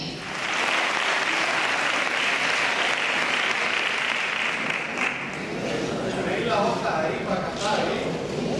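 A concert audience gives loud, dense applause for the band conductor at a Christmas carol performance, with the steady clapping filling the whole stretch and thinning into more scattered claps toward the end.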